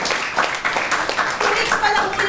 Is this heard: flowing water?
no